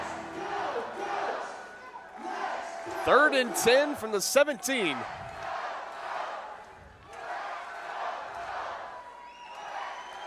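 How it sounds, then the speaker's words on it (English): An arena football crowd in the Arena League, St Joseph Goats against Iowa, roars steadily with cheers and whoops, swelling loud and staying dense throughout while an announcer talks over it. "As this crowd's getting loud again."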